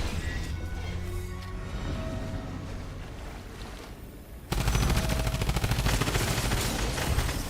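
Rapid automatic assault rifle fire in Fortnite, a dense stream of shots that jumps suddenly louder and closer halfway through, layered over constant game background noise.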